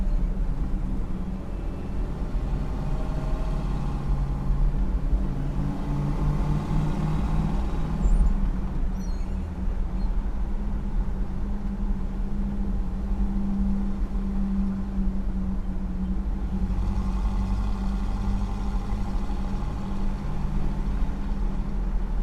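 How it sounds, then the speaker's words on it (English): A restored 1970 Pontiac Trans Am Ram Air III idles with a steady, deep low rumble through its Ames Performance Super Duty exhaust, continuous and close for the whole stretch with no talking. "The exhaust system on the car is the Super Duty exhaust, they call it, from Ames Performance. It's got a nice factory rumble to it."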